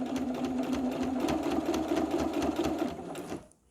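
A sewing machine set to stitch length 3 stitches in a fast, steady whirring rhythm for a few seconds, then stops abruptly.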